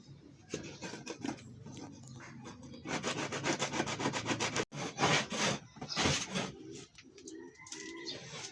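Scraping and rubbing from cleaning the inside of a pigeon loft, with pigeons present; a steady run of dry, rasping strokes, some fast and dense, close by, with a short pause partway through and no talk.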